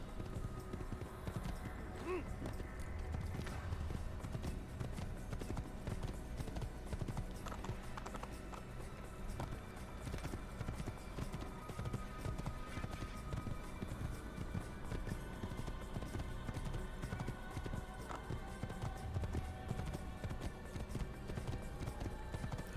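Horse hooves clip-clop steadily while riding along a road in Assassin's Creed, a continuous trotting rhythm mixed with game ambience and faint background music, running throughout without letup.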